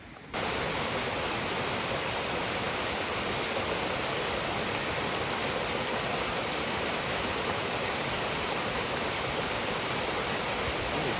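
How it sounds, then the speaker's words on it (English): A little mountain creek rushes steadily and alone, a constant broad hiss of flowing water close by with no pauses or other sounds. "Gorgeous little creek,"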